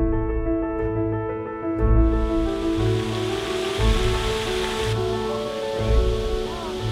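Rushing water from a waterfall during a walk in Poland, a dense continuous roar with steady broadband spray, played under a layer of music with sustained tones throughout.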